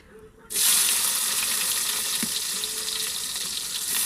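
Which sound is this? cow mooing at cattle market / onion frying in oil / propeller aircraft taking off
onion frying in oil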